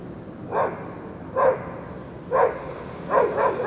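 Four deep barks from a Doberman, the last two close together, ring out moderately loud over a steady city street hum in Midtown Manhattan.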